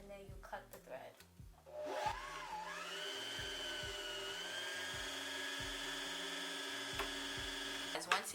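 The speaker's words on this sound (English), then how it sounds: "Once your bobbin is full, it will stop spinning." A sewing machine motor whirs steadily as it winds a bobbin, rising in pitch and holding a continuous moderate hum, then cutting off near the end, with quieter rhythmic background sounds beneath.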